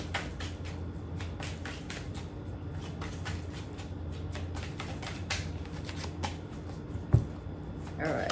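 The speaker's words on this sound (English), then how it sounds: "I feel called to do one more shuffle" Tarot cards are shuffled by hand in a steady run of soft riffling and flicks, with a low hum underneath and a sharper tap near the end.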